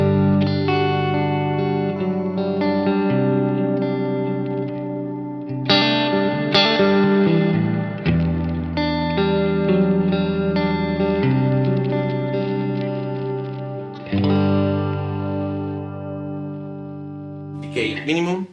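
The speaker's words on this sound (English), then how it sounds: "If I put the decay at maximum for a room reverb," Guitar chords run through the room reverb of a Cornerstone Nucleo pedal with decay set to maximum ring out loud and close, each strum trailing into a long sustained wash before the next change, with no voices.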